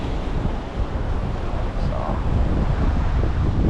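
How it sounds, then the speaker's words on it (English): Ocean waves crash against wet rocks in strong wind, a loud, continuous roar with rolling surges and steady wind buffeting the microphone, no talk. "these waves are gonna crash right on me"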